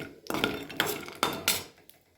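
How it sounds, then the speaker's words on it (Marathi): Peanuts dry-roasting in a pan for a village-style thecha, with a spoon scraping and knocking against the metal in four loud strokes and a dry rattle in between. "आता ठेशासाठी थोडेसे शेंगदाणे भाजून घेते"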